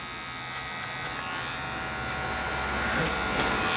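An electric hair clipper cutting a low skin fade hums steadily and continuously at close range, a constant buzzing drone with no breaks.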